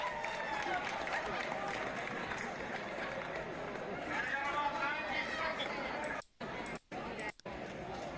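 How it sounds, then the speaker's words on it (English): A crowd at GenCon's Cardhalla card-tower event cheers and chatters in a dense, continuous roar of voices and movement, broken by a few abrupt dropouts near the end. "And you just see everybody cheering."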